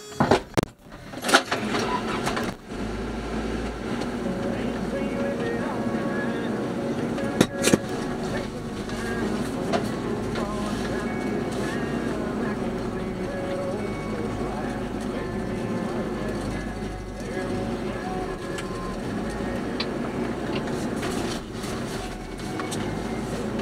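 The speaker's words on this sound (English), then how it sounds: "let's get in the truck here" A truck drives toward a barn on a farm, its engine rumbling steadily throughout with a few knocks and clunks near the start, while people talk intermittently over it.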